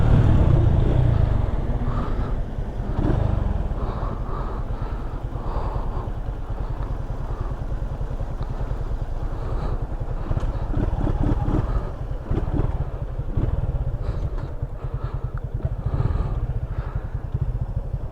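Yamaha FZ 250 motorcycle running without an air filter, its engine droning loudly as it rides and accelerates through the gears, with heavy wind buffeting over the microphone.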